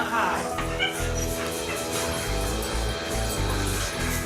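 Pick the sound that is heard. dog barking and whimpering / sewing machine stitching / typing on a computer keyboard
dog barking and whimpering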